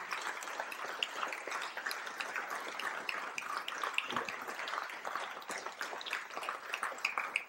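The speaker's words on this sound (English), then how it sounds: "let's give Mother Tynnetta another round of applause." Soft, distant applause from an audience after a speech in a Los Angeles mosque, a faint, continuous patter of many hands with no clear peaks.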